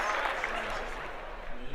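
A short burst of clapping fills the moment, steady, dense and close but modest in volume, with voices in the background.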